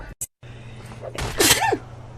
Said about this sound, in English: Demon sneeze